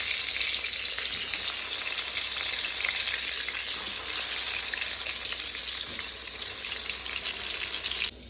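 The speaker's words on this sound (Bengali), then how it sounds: "তো এখন আমি বেগুনটা ভাজা বসিয়ে দিই" Eggplant slices fry in oil in a pan, a steady close sizzle with faint stirring that holds evenly throughout, with no talking.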